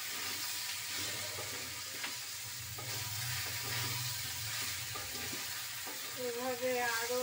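A mixed five-vegetable curry fries and is stirred in a pan at home, a steady sizzle with scraping stirs, while someone speaks over the cooking near the end.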